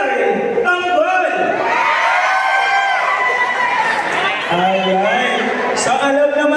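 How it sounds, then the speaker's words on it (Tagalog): A class crowd at an event in Taguig cheers and whoops loudly and continuously, with excited shouting voices rising and falling throughout, close and dense. "parinig po ng napakalakas na hiyawan para kay Sir Daryl Tambal."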